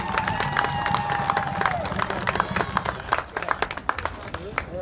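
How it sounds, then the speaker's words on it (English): A crowd at a high school football game claps and cheers for the Conneaut Eagles cheerleaders, scattered applause and shouts rising amid chatter, with a voice talking over it. "give them a nice round of applause, people"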